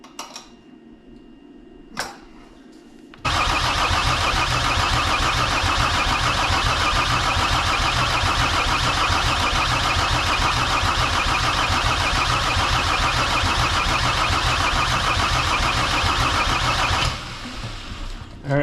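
An OM606 diesel engine cranks on the starter after a mechanical injection pump install, with its glow plugs unhooked. A few faint clicks come first, then a loud, steady, rhythmic cranking churn runs for about fourteen seconds before it drops off without the engine catching.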